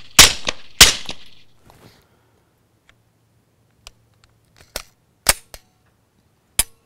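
A Glock 19 pistol fitted with a SilencerCo Omega 9K suppressor fires suppressed shots, two sharp close pops early on, then a quieter stretch with a few more spaced cracks and small clicks.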